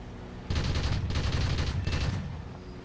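Rapid bursts of aircraft cannon and machine-gun fire from a Ta 152 fighter in the War Thunder game, several loud sustained volleys close together over about two seconds before fading.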